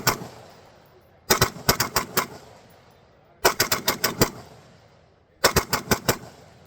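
Firearm with a binary trigger firing at an outdoor shooting range: three loud, close bursts of five or six rapid shots each, separated by pauses of about a second and a half.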